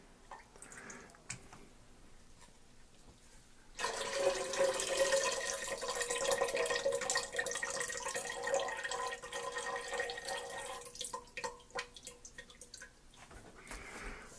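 Pineapple and orange fruit juice pours from a container into a bowl while mead is being made, a steady, faint trickling splash that runs for about nine seconds, with quiet drips before and after.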